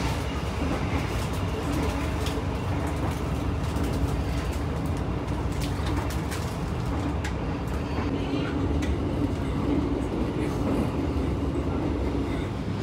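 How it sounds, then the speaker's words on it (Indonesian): The Baturraden Express train pulls into Sidareja station, a steady low rumble of wheels and carriages filling the platform throughout, with faint bird calls and occasional distant voices. "kereta api Baturaden sudah tiba di stasiun Sidarja"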